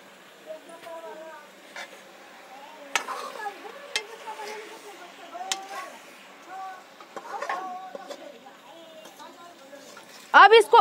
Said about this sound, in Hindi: अब इसको अच्छे से मिक्स कर लेंगे।